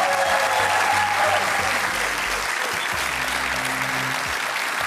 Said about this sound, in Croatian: Pa gledajte kako publika navija za vas.